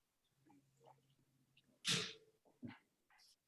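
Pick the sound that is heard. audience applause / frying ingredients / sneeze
sneeze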